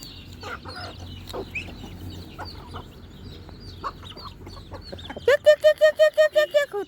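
Chickens cluck in scattered, close bursts at a rural morning feeding, ending in a loud run of rhythmic rooster-like calls; no talk.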